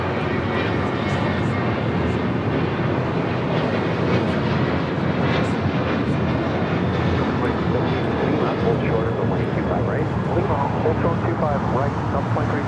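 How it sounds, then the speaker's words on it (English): A United Airlines Boeing 737-900ER takes off from LAX bound for Denver, its engines roaring loud and sustained, with a rising whine late on and voices talking over the noise. "This is United Airlines 2146 taking off to Denver on a 737-900ER"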